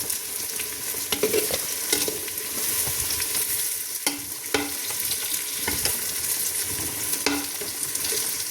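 Food with turmeric sizzles steadily in a hot pan for fish curry while a utensil stirs and scrapes at intervals, close up, with no voices.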